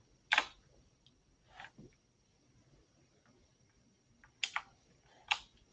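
Someone types on a computer keyboard during a cybersecurity webinar livestream, with sparse clusters of faint clicks separated by long quiet gaps.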